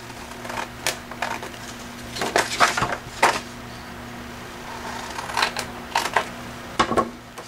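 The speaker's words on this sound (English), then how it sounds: "We're going to just take our scissors and cut this out." Close-up snips and crisp rustles of scissors cutting paper, coming in short irregular bursts over a faint steady hum.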